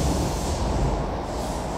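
Tokyo Metro Namboku Line train arriving at Akabane-iwabuchi station, a steady loud rumbling roar of the train running into the platform, with no voices.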